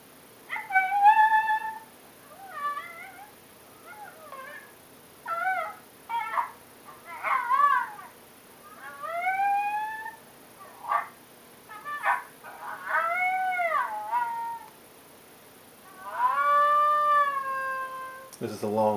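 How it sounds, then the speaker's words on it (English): A string of high female coyote yips, barks and wavering howls from a FoxPro Spitfire electronic caller, rising and falling in pitch, clear and alone against a quiet background. "This one is the female coyote bark howl 1."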